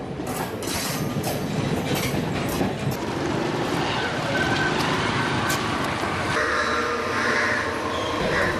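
Train at Kaluthara railway station on Sri Lanka's coastal line, with steady rumbling and clattering that continues throughout and rises slightly toward the end.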